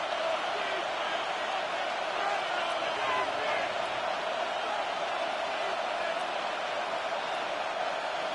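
Stadium crowd noise from an American football video game on a third down late in the fourth quarter, a broad steady roar that keeps going without a break, with a commentator's voice heard intermittently.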